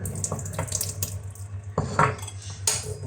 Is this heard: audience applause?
no